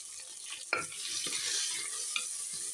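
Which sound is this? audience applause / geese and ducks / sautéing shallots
sautéing shallots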